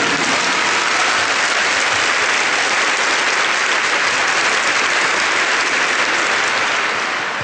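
A church congregation applauding during a priest's sermon, loud, continuous and dense clapping that holds steady throughout with no speech over it.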